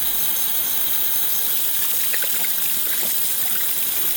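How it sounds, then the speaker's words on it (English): Water running over wine bottles as they are rinsed clean of soap, a steady broadband trickle and splash with faint droplet patter, continuous throughout. "they're thoroughly rinsed with water to remove every trace of the soap."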